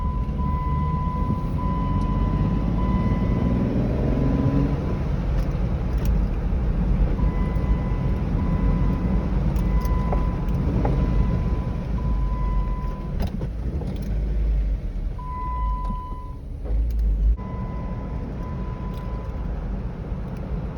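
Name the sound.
Jeep Wrangler driving a test lap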